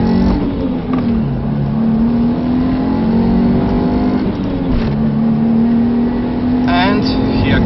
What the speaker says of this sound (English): So enjoy the 0 to 100 km an hour acceleration.